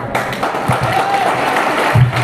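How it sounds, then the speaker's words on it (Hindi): Audience applause at a Hindi speech gathering, a continuous wash of clapping from a crowd, fairly loud and steady for the whole span, with some voice mixed in. "ये जो ताली बजाने के लिए आपका हाथ उठा है, ये हाथ कभी रुकना नहीं चाहिए।"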